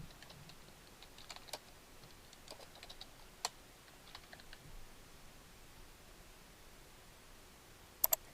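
Sparse keystrokes tap softly on a computer keyboard while a description is typed. There are scattered clicks with pauses between them and a quick double click near the end, all faint and close, with no talking.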